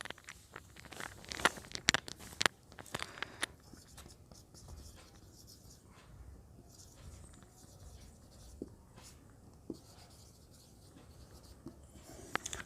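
Chalk or marker writing on a classroom board during a chemistry lesson, faint scratchy strokes in short bursts with scattered taps and rustles, heard close in a quiet room with no talking.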